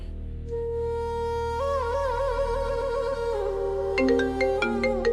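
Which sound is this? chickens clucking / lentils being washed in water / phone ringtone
phone ringtone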